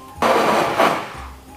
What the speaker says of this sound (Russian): Вот Франко опять блендером это перемешал